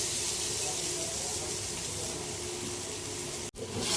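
Jackfruit hits hot masala in a pan over a low gas flame and sets off a steady, close sizzling hiss that holds throughout, with a brief dip near the end.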